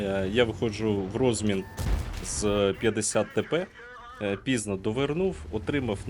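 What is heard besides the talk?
No everyday noises stand out.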